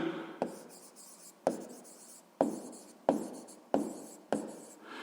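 A pen writes on a tablet during a sixth-grade math exercise, six sharp taps each followed by a short scratchy stroke, evenly spaced, close and quiet with no talking.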